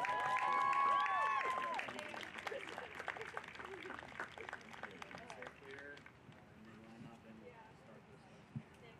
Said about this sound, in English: let's give the women's soccer class of 2017 one more round of applause